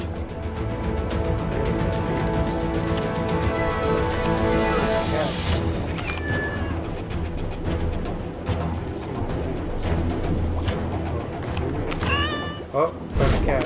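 Cartoonish cat meows from Lego Marvel Super Heroes 2 gameplay, a few short mews rising out of a dense bed of game music and effects, with a voice talking over parts of it.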